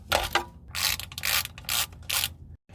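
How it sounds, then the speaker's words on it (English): A ratchet turns a car's oil drain plug bolt in several rapid clicking bursts separated by short pauses. The sound is close and fairly loud, with no voices. "Take off drain plug bolt."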